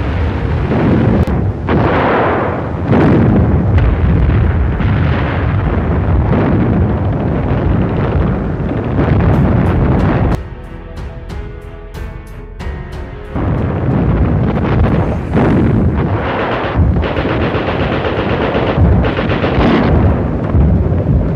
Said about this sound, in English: Panzer mit aufmontierten Werfern. Mehr und mehr geben sie mit ihrem vernichtenden Feuer der Schlacht ihr Gepräge.